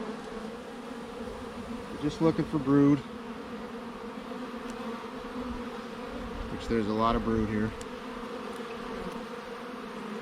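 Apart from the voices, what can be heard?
bees buzzing around an open hive in a bee yard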